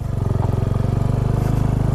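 A motorcycle labors up a steep mountain road, its engine putting out a loud, close, steady rapid thumping throb that holds its pitch under strain, with no voices.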